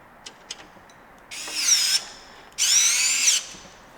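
A power screwdriver drives a screw into a PC case fan, with two short high whirring bursts of about half a second each, preceded by a few small clicks of handling.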